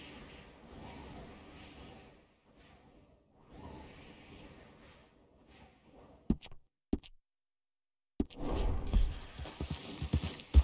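Horse hooves clip-clop in Red Dead Redemption II, a steady, muffled rhythm of faint hoofbeats, broken by a few sharp clicks and then louder rustling game noise near the end.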